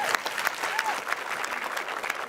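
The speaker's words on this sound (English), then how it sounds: "let's give her a round of applause" A conference audience at Cisco Live 2025 in Melbourne applauds a panel, a dense, steady wash of many hands clapping that fills the room with no break.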